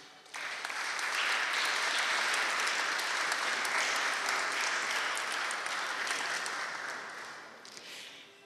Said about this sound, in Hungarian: És még egyszer jár a taps,